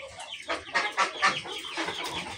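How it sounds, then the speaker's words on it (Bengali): Chickens kept on a rooftop cluck in short, close bursts, several birds overlapping in a brief, busy flurry. "এখানেও আছে কিছু মুরগি"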